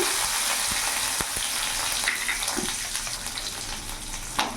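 Dried red chilies and a generous handful of garlic cloves fry in hot oil in a wok, giving a steady, close sizzle with a few sharp pops and clicks.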